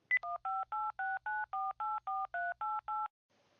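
Telephone keypad dialing an office call to a legal department: a quick run of about eleven crisp, evenly spaced DTMF beeps, loud and close, with no talk over them.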